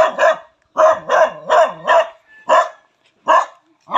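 Dogs bark in sharp, loud bursts at a rural home where pigs are kept, the barks coming in quick clusters with brief pauses between them.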